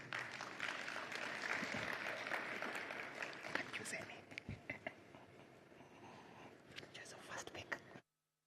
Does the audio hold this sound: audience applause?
yes